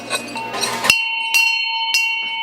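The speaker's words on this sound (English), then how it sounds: "you ring the bell and you get the communion" An altar bell rings at communion, with a bright metallic jingle first and then clear single strikes whose tones ring on, close and distinct, with no one talking.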